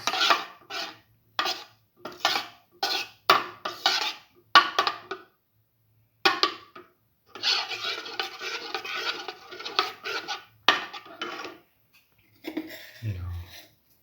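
Cutlery scraping and stirring potato omelette ingredients in a bowl, a series of short rasping strokes in bursts, then a longer steady mixing run and a few final scrapes, close and clear.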